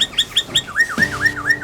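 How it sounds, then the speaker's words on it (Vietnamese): A toy Angry Bird gives a loud, close electronic chirping birdsong, a quick run of rising whistled chirps followed by a warbling trill, with no talking. "bố nghe tiếng chim hót đây rồi Tân An ơi."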